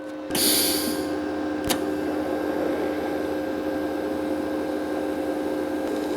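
VEVOR 210 amp 3-in-1 TIG welder arcing on 1/2 inch metal, a steady close electrical hum and buzz with a sharp hiss at the start and one brief crackle, continuing evenly throughout.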